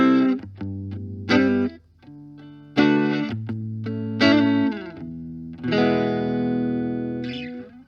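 Electric guitar played through a Blackstar HT1-R valve amp on a clean, American-voiced setting rings out in sustained chords and single notes with spacious reverb, several strummed phrases decaying between attacks.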